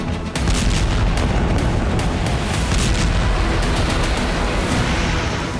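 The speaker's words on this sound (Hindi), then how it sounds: "सूरज उगने से पहले ही ये बम बरसे और जेट इंजन जैसी आवाज के साथ जोरदार धमाके" Missile warhead blasts strike Ukrainian ground in news footage of a Russian ICBM attack near Dnipro: a loud, continuous rumble of booming explosions with dense crackle, sustained throughout without a break.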